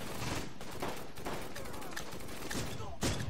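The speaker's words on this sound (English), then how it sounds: "Put a bit of suppressor fire down." Dense suppressing gunfire rattles in the WWII tactics game Close Combat, set around Caen in Normandy. Overlapping rifle and machine-gun bursts crackle steadily throughout, with a sharper volley near the end.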